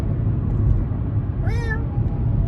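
A cat lets out one short, clear meow near the end, set against a constant low background rumble.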